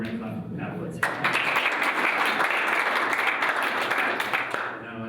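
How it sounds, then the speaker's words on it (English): Room full of people clapping for a guest at a music licensing panel, applause breaking out sharply after a short spoken lead-in and holding steady and loud for several seconds before tapering off. "Now we're going to clap for Pat Woods."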